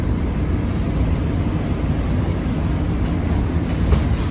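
DC Metro Green Line train running, a loud, steady low rumble of the car rolling along the tracks, heard from inside and continuous throughout.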